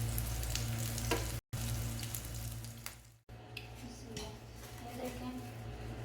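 Small chicken kebabs fry in hot oil until lightly golden, a steady close sizzle and crackle with brief gaps where the sound cuts out, someone talking softly over it.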